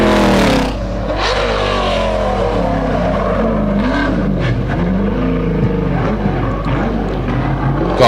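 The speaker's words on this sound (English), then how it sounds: "God, those GTs just look so good, don't they? And they sound just as good too." A Ford Escort GT race car at a lakeside hillclimb holds a loud, steady engine drone up close, with a brief sharp rise at the start and rough revving texture throughout.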